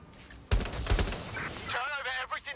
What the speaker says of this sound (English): Gunshots coming from somewhere.